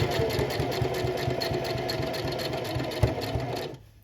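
A sewing machine runs steadily while stitching a slouchy tote bag, giving a fast, even mechanical chatter close by. The rhythm holds for several seconds before it stops abruptly near the end.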